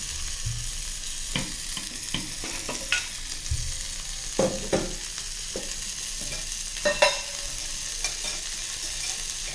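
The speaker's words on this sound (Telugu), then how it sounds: "ఉల్లిపాయలు, పచ్చిమిరకాయలు. కొంచెం నూనె వేద్దాం." Onions and green chillies frying in oil in a pan, a steady sizzle broken by repeated scraping stirs and clinks of a spoon, close and fairly loud throughout.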